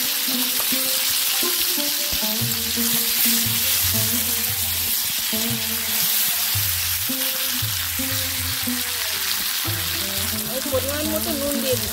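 Tomatoes fry in a pan with whole garam masala of cardamom, cloves and cinnamon for an orange chutney, a steady loud sizzle continuing throughout, with background music underneath.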